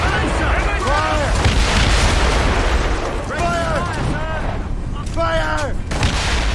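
Ship cannons boom repeatedly in a naval battle in Assassin's Creed Rogue, a dense continuous barrage of heavy blasts with shouted voices breaking through at intervals.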